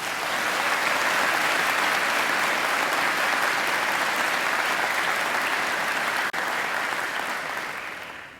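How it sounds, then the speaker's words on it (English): Sustained applause from a large audience at a university graduation ceremony, a dense steady clapping that fills the hall at full strength for several seconds and then begins to taper off toward the end. "I think Angela deserves another great round of applause."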